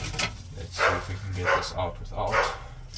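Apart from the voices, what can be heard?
dogs barking in the background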